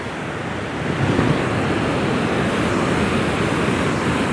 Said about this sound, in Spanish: Ah, pedazo de olas.